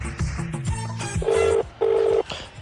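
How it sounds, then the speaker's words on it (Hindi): A phone dialing: a few quick button tones followed by two long, loud ringing tones from the earpiece. "रुको अभी डॉक्टर को फोन लगाता हूँ।"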